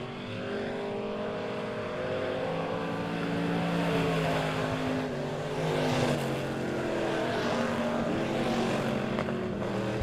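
Pure stock race cars circle Monett Motor Speedway in a heat race, engines droning loud and steady with rising and falling pitch as cars pass, a continuous close roar with no talk.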